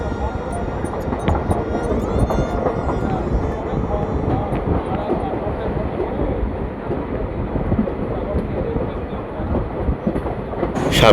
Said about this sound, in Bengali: আর এই ট্রেনের গতি এখন 1 ঘন্টায় 100 কিলোমিটারের উপরে চলছে